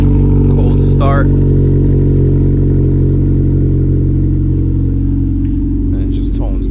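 On a cold start, a 2013 Honda Civic Si with full race exhaust and catless downpipe holds a loud, constant low rumble that eases slightly near the end. A few short voices cut in over it.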